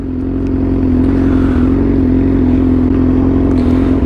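A Yamaha R6 sport bike fitted with a very loud aftermarket exhaust drones steadily and close up, holding a deep, throaty engine note with slight rises and dips of revving throughout.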